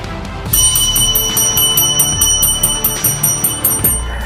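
A bright bell dings rapidly and repeatedly over a dense musical backing, the chimes ringing out in an even rhythm for several seconds.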